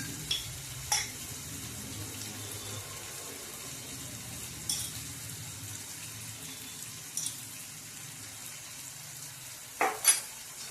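Schezwan sauce being stirred into spinach momos in a hot pan gives a soft, continuous sizzle and fry under occasional clinks and scrapes of the spoon against the pan.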